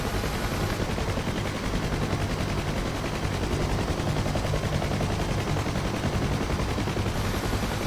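A UH-1H Huey helicopter's door machine gun fires in the DCS flight simulator: a dense, unbroken rattle of automatic fire lasting several seconds, loud and close, with rotor noise underneath and no talking.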